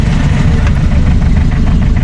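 A vehicle engine, just repaired after pump, clutch wire and wiring work, runs steadily and loudly up close with a dense low rumble and a slightly knocking idle, no talking over it.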